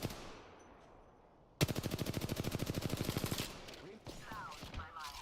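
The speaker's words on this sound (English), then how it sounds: "Yeah, yeah, I'm shooting, I'm shooting, I'm shooting" A rapid automatic burst of video game gunfire rattles for about two seconds at an even fast rhythm after a quiet stretch, then gives way to softer game sounds and a voice.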